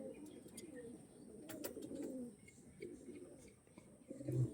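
Flying-line pigeons kept by a breeder coo softly and repeatedly amid faint chirps, fairly quiet with steady background noise and a louder coo near the end.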